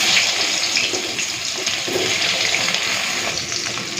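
Eggplant slices frying in hot oil in a home kitchen, a steady broadband hiss with faint scattered crackles throughout and no voices.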